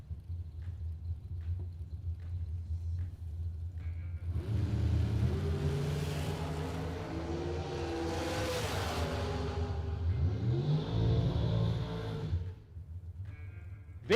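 A dragster and a 454 car launch side by side down a drag strip, a deep roaring rumble building in and sweeping past, then fading into a lower distant drone, with no talk over it.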